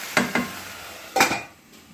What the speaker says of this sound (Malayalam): എല്ലാം കൂടെ മിക്സ് ചെയ്തിട്ട് ഒന്നും കൂടെ മൂടി വെക്കാം